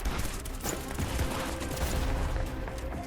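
Continuous charge-shot gunfire in the video game Project Snow, a dense, steady barrage of rapid bursts filling the clip at a constant level with no voices.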